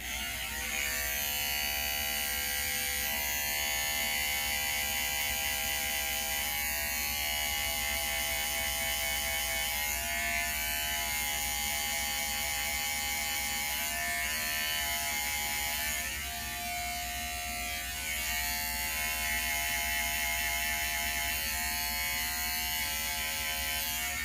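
An electric hair trimmer with a one guard, lever open, cuts hair for a skin fade, producing a continuous close buzzing hum whose pitch wavers slightly as it moves through the hair.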